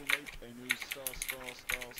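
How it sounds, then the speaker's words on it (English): Rapid clacking of a loud computer keyboard, keystrokes in quick irregular bursts, while someone talks over it. "It sounds like a typewriter."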